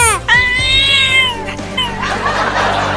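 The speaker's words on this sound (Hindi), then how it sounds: "देखो वो बड़ा बिल्ली हमें काटने दोनों को" A cat gives a loud, drawn-out meow up close, quickly followed by a shorter, rougher cry that trails into noisy background clatter.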